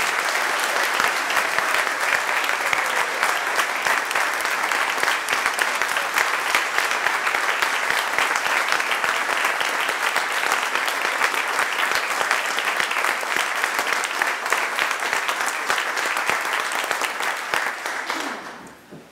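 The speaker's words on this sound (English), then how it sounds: "your applause now, and thank her" Sustained applause from a church congregation during a Sunday Christmas cantata worship service, a dense, steady wash of many hands clapping for about eighteen seconds before tapering off at the end.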